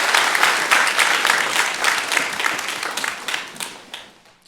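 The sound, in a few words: church congregation applause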